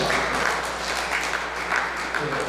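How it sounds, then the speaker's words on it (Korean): An audience at an academic presentation on Buddhist temple culture tours claps together, a steady, dense patter of applause filling the room at moderate level without speech over it. "박수 한번 치십시오."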